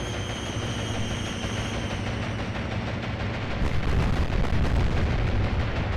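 Bombs burst in the naval video game Atlantic Fleet during a Battle of the Atlantic air attack, a dense, continuous roar of blasts and heavy booming with no break.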